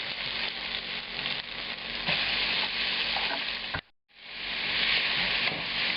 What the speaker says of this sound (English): We add that last batch of oil and begin cooking the onions.